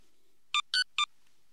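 Three short, bright telephone dialing tones in a Tex Avery cartoon, evenly spaced beeps standing alone against near silence.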